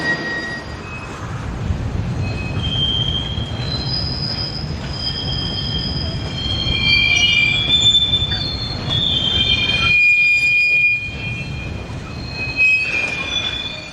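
Freight wagons propelled over a hump yard by pairs of SNCF locomotives, wheels squealing loudly and continuously against the rails with steady rolling rumble, no voices.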